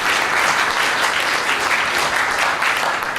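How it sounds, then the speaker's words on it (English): Audience applause after a panel discussion on financing challenges: dense, steady clapping from a large crowd, loud and sustained throughout without a break. "Let's give them a big clap."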